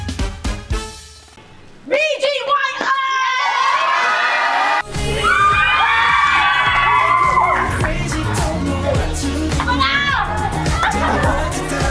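Students at a school spelling bee with singing and tumbling shout and cheer loudly as a crowd, with excited whoops and overlapping children's voices swelling after a brief lull and staying loud throughout.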